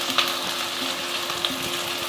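Beans, carrot and potato for a double beans veg biryani fry in a pan while being stirred. A steady sizzle sits under light spoon clinks and scrapes, close and without speech.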